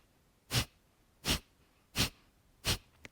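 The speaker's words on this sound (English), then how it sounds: "What it involves is a forceful exhale out through your nose." Breath of fire yoga breathing: four sharp, forceful exhales through the nose, evenly spaced about once every seven tenths of a second, close and clear against near silence.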